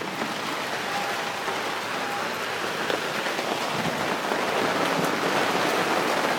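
Steady rain pours down onto a surface, a dense, continuous patter that swells a little louder toward the end, with no voices over it.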